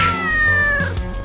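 A cat meows loudly and close, a drawn-out wavering caterwaul that trails off into softer sounds.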